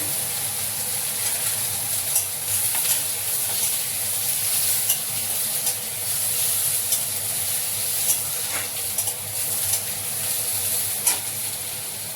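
Capsicum and onion sizzling and being stirred in a hot pan, steady frying hiss with scattered spatula scrapes and pops.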